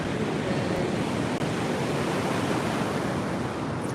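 Ocean waves washing onto a beach, a steady broad rushing roar with a soft wind-like hiss, constant and moderately loud, with no voices.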